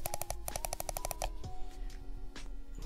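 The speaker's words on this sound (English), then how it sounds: "it was kind of soothing to hear my mouse click" Rapid clusters of crisp mouse clicks close to the microphone, then sparser scattered clicks over a faint steady hum.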